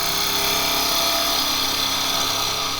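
A sharp gouge slices into spinning wood on a woodturning lathe, producing a steady, loud, continuous whirring hiss with no pauses.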